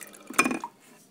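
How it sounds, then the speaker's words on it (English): Water pours briefly from a refrigerator's water dispenser into a cup, a short splashing trickle up close that fades out after about a second. "You got water that comes out."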